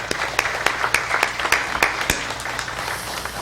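A church congregation claps in celebration of a child's first birthday during a Sunday service, a brisk, even patter of many hands with distinct louder claps standing out.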